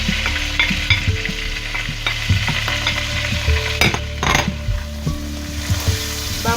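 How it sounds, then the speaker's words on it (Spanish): Chopped onions and a garlic clove sizzle steadily in hot oil in a pan, with a constant frying hiss, occasional stirring scrapes and light clinks of a utensil against the cookware, no voices. "en el mismo aceite vamos a echar las cebollas que hemos cortado y el diente de ajos"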